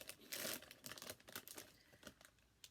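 A crinkly snack bag from the UK cut open with small scissors, with an opening rush of plastic crinkling followed by a series of soft snipping and rustling sounds, close and quiet.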